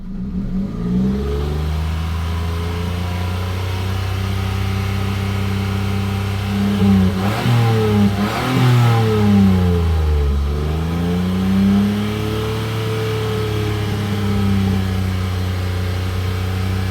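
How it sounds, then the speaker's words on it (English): A car engine with a suspected head gasket leak being revved after a coolant leak sealant treatment, a loud close idle that climbs through two rising revs around the middle and then settles back to a steady hum. "all I can do I suppose is just rev it and see."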